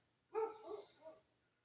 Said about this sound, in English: You guys hear my dog outside barking?